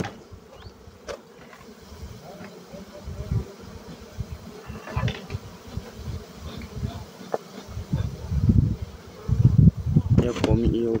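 Honeybees hum continuously at a beehive during a check of honey stores and brood, the close buzzing swelling and fading, with a brief voice near the end.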